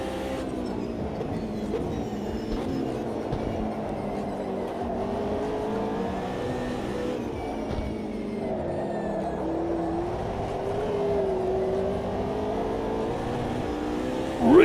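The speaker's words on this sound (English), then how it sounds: "Really playing with the throttle there." A race car engine in a sim racing game drones and shifts pitch as the throttle is worked on and off, a continuous mechanical tone that rises and falls over several seconds, with no talk over it.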